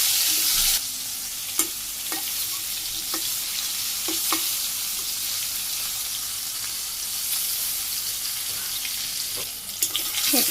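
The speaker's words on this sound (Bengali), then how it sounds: "তেল গরম হয়ে গেছে, পটলগুলো দিয়ে দিই।" Pointed gourd slices coated in turmeric, chili and salt fry in hot oil, giving a steady close sizzle with occasional stirring clicks and scrapes throughout, no talking.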